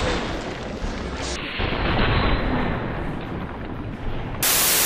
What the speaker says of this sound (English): The amount of distinct and inventive weapon and explosion effects is staggering.